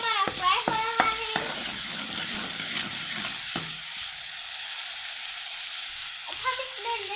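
Onion paste frying in a pan for chicken tikka masala, with a soft sizzle and a few sharp scraping knocks of stirring at the start, then a quieter, steady hiss.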